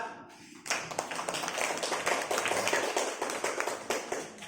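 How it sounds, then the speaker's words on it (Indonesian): A classroom group applauds a presenting student group during a teaching performance exam, with dense, steady clapping that starts abruptly and continues fairly close for several seconds. "berikan aplaus untuk kelompok 4"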